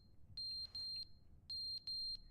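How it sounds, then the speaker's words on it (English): Electronic alarm in The Stanley Parable video game beeping in short evenly spaced pairs, a high steady tone repeating clearly over a faint low background hum. "Oh, beeping, beeping, beeping."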